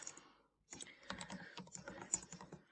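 Quick typing on a computer keyboard, a short close burst of light plastic key clicks after a brief pause, quiet and with no talking.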